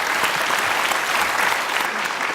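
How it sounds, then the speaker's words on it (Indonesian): Studio audience at a televised talk show applauding for Yenny Wahid, dense sustained clapping from a large crowd, loud and close throughout. "Kita kasih tepuk tangan dong Mbak Yeni Wahid."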